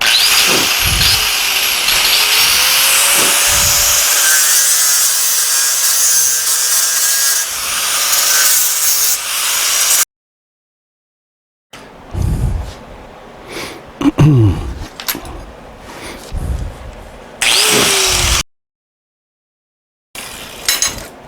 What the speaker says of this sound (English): the flap disc is a nice tool for this